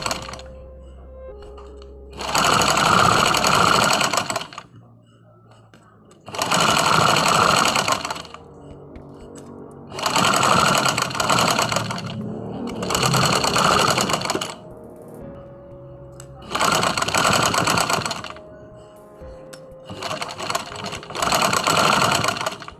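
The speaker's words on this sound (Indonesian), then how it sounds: "Setelah selesai menjahit kupnat, kemudian menyatukan bagian sisi depan dan belakang dan juga bagian bahu depan dan" A sewing machine stitches fabric seams while joining the front and back side and shoulder pieces of a garment, running in about seven loud bursts of rapid rattling, each a few seconds long, separated by quieter pauses.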